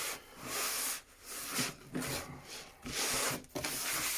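Salt cure is rubbed by hand into the skin of a pork leg, giving repeated coarse, gritty scraping strokes in an uneven rhythm, fairly close and quiet, with short pauses between them.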